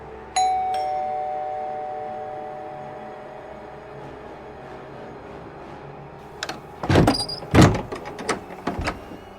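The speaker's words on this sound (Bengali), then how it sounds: "কলিং বেলটা বাজালো" A single electronic doorbell chime rings out clearly and decays slowly in a quiet stairwell, followed a few seconds later by a burst of sharp wooden rattles and clacks as an old wooden door shutter is worked.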